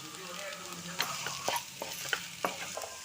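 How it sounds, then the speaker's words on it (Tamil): A spoon stirring mashed potato kachori filling in a pan, giving soft scraping strokes in an irregular rhythm over a faint sizzle. It is fairly quiet and close, with no talk. "மிக்ஸ் பண்ணிக்கோங்க நல்லா."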